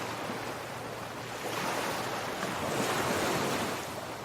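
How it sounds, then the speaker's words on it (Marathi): Sea waves roll onto Guhagar beach in Ratnagiri district on the Konkan coast: a steady, loud wash of surf with wind buffeting the microphone, and no voices. "कोकण किनारपट्टीवरचा रत्नागिरी जिल्ह्यातला गुहागरचा किनारा."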